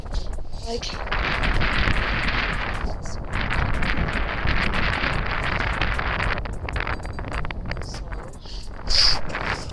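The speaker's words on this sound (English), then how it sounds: "I'm pedaling into all this headwind" Steady, roaring wind buffets the microphone as a cyclist pedals into a strong headwind on an open road, loud and constant throughout with only slight dips in strength.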